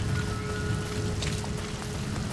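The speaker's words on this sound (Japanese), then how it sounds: "うわ、雨だ。" Rain falls in Metal Gear Solid V: The Phantom Pain, a steady soft patter over a low rumbling background with a faint held tone.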